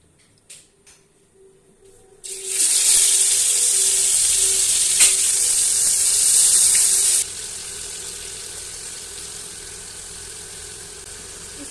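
Meat pieces for reshmi karahi drop into hot oil, and a loud, bright sizzle bursts up suddenly and holds for several seconds before dropping to a quieter, steady frying hiss.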